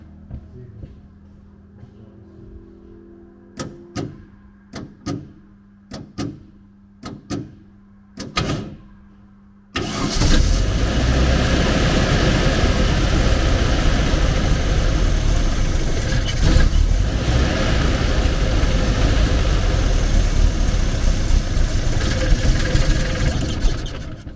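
A VW Camper with carburettor trouble: several sharp clicks and short cranking bursts, then the engine catches and settles into a loud, steady rumbling idle that runs to the end without talk.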